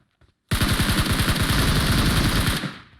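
Sustained MG3 machine gun burst in a video game, a loud rapid rattle of rounds kicking in after a brief pause and running for about two seconds before cutting off into a fading tail.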